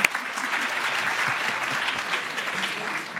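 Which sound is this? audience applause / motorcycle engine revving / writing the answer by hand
audience applause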